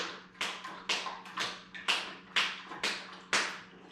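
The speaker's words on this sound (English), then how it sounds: "This would be a low." Soft single hand claps used in gunfire introduction training for a dog, about eight sharp claps in a slow, fairly even rhythm, each with a short decay, quiet and close with no talking.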